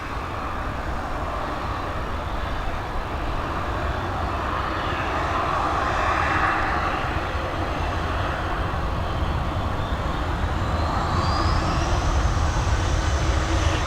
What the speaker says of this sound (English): we're heading to Birmingham with this Airbus A320